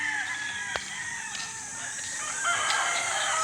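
A rooster crows clearly among a flock of chickens, with a long drawn-out call and another crow farther off over a steady background of clucking birds.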